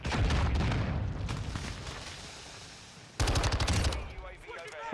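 Shotgun fire in Modern Warfare II, heavy repeated blasts at close range, loud and rapid in a first flurry, easing off, then a fresh burst of shots.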